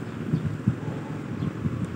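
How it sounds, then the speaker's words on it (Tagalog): Strong wind at the Marikina River buffets the microphone in a steady, low rumbling roar with gusty swells, no voices over it. "lakas ng hangin"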